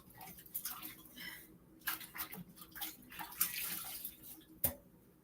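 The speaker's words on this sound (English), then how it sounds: "let me just wash my hands here." Water runs from a tap over hands being washed at a kitchen sink during holiday dessert baking, a steady rushing stream with small splashes and bursts that rise and fall over about five seconds.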